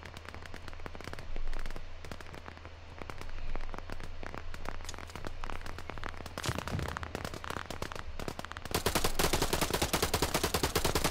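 Machine-gun fire in the video game Operation Harsh Doorstop: dense, rapid cracking bursts roll on almost without a break and grow heavier and louder toward the end, with no voices over them.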